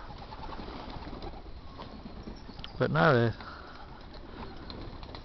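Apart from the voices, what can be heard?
racing pigeons cooing in loft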